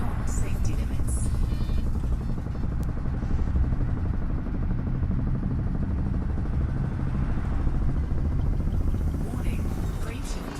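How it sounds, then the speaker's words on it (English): Frameshift drive charging in Elite Dangerous, a steady loud droning hum with buzzing overtones that holds at an even level throughout, with a synthetic voice speaking over it. "Warning, frameshift drive operating beyond safety limits."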